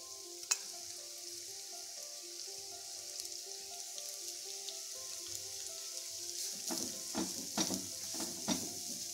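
Jackfruit seeds fry in a pan with a steady hiss of sizzling oil, joined by scraping, clinking stirs that grow more frequent toward the end, close and moderately loud with no talking.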